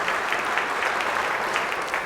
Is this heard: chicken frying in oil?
no